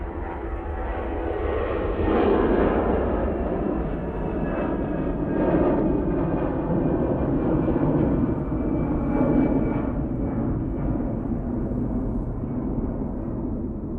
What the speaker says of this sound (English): So that's the EasyJet going off to Sofia using the A320-200.